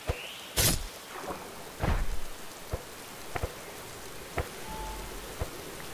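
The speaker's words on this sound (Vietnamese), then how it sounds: "Mưa rồi hả? Tuyết nữa. Mưa gió bão bùng." Rain and a thunderstorm in Minecraft DawnCraft, with a steady patter of rain under scattered sharp, crackling bursts and low rumbles of thunder.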